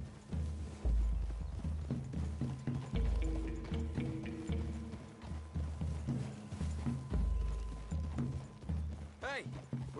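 Horse hooves clip-clop on a trail in the video game Red Dead Redemption, a rhythmic plodding gait under ongoing character dialogue, with a brief whinny near the end.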